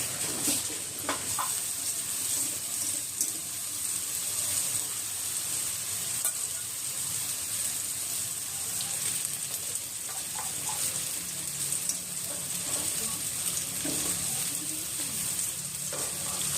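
Potato chips fry in a batch of hot oil, a dense, even sizzle and crackle that holds steady throughout, close and continuous, with a few faint knocks and no talking.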